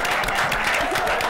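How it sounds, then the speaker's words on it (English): Audience applause at a midnight stage show, a full, even roar of many hands clapping together, loud and sustained from start to finish. "let's have a nice, warm round of applause"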